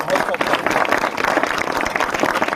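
Loud, dense applause from a large audience at a Parashurama Jayanti celebration gathering, steady broadband clapping filling the whole stretch with no pauses.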